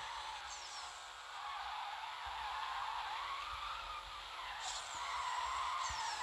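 A 1991 Honda NSX skids in the Need for Speed No Limits racing game, with a continuous hissing tire screech over a steady engine drone that lasts several seconds without talking.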